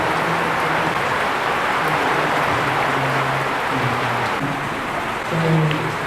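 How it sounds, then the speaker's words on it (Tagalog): Rain falls steadily in Tagaytay during a coffee cluster assembly, a dense, even hiss with a low hum and faint tonal sounds in the background. "Ay, umuulan na naman."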